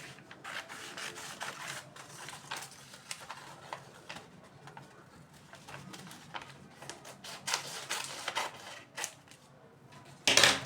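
Scissors snip steadily through a paper blouse pattern, a quiet run of crisp, irregular cuts close by, ending in a brief louder rustle of paper.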